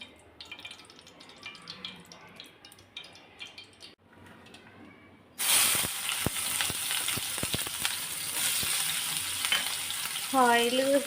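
Onions and green chillies drop into hot oil halfway through, bursting into a loud, close, steady sizzle with crackles and stirring after quieter kitchen sounds.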